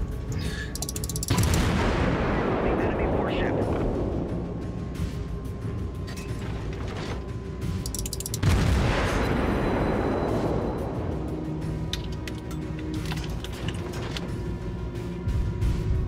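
Warship main guns firing in the naval battle game World of Warships, two heavy booming salvos several seconds apart, each one loud and close, then a long rumbling decay, with no voices.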